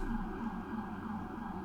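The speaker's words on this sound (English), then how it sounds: "Is there a siren going on in your background?" Emergency siren wailing faintly in the distance, a steady rising-and-falling tone behind a quiet room with no talk.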